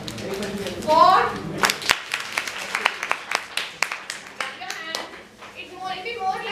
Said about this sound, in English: I'll raise fingers and you keep clapping with those fingers.